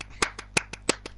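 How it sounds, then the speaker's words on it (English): Several sharp, distinct hand claps sound in an uneven sequence of about seven, close and crisp, over a low steady hum, with no voices. "round of applause."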